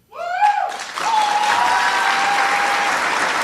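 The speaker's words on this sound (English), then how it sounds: "A lot of spontaneous cheers and applause there." A crowd cheers and applauds loudly at a political event, a brief shout rising first and then dense sustained clapping and cheering that fills the rest of the moment.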